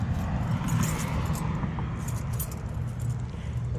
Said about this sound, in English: let me bounce my keys off the ground here.